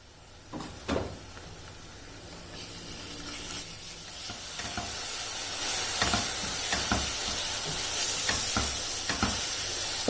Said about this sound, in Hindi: अब लहसुन अदरक और हरी मिर्च के पेस्ट को इसमें 2 से 3 मिनट तक ही कुक करना है।